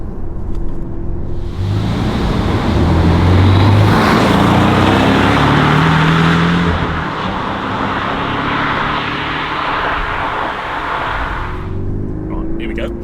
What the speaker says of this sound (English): people give the 4-pot Boxster and Cayman a bit of a hard time, and I always just say it sounds different.